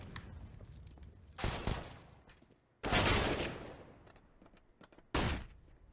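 Sharp gunfire from a P250 pistol in a Counter-Strike match on the Vertigo map: three loud, separate bursts spaced a second or so apart, with quieter in-game clatter between them.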